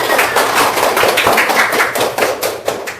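A class of students claps their hands together in a classroom, producing a burst of dense, irregular clapping that carries on steadily and fades slightly toward the end.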